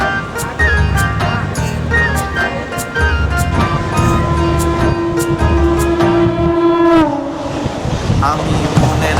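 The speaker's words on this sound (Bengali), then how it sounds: "ট্রেন চলে এসেছে" An Indian passenger train pulls in, with a steady rumble, clanks and a sustained horn-like tone near the end. Background voices and music are mixed in throughout.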